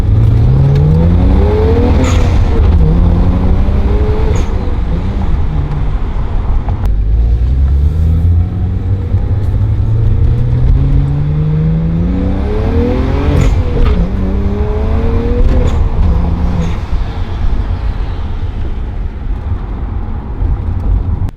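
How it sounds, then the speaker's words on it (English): A BMW 335i with the N54 engine and a stage 1 tune accelerates hard on a road, loud engine revving up through repeated gear pulls with rising tones and brief shifts, heard from inside over constant road noise. "Gonna go take it for a few rips down the road."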